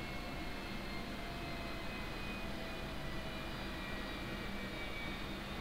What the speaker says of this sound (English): that gas turbine rev down sounds really unsettling